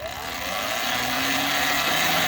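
The electric motor of a Sur-Ron or Talaria e-bike runs on the throttle, a loud, close whine with a rising pitch over a constant mechanical hum.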